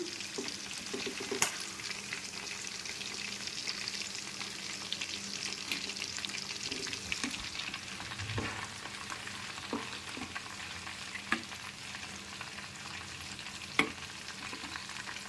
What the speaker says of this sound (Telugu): కొంచెం కరివేపాకు అండి ఈ విధంగా వేసుకొని ఫ్రై చేసుకోవాలి